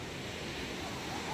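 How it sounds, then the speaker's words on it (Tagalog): Waves wash and surge against a small fishing boat at sea, a steady broadband rush of surf and wind that fills the whole stretch without pause. "Bago makatabi talagang sinasalya ng alon."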